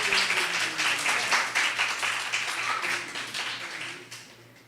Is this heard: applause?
yes